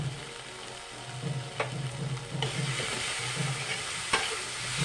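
Fish-head curry with raw banana and potato sautéing and frying in a pan, a steady close sizzle with a few clinks of stirring.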